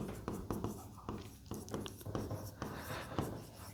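A teacher writes on a board during a class, with steady scratchy strokes and light taps in a quick, uneven rhythm, close and continuous without talk.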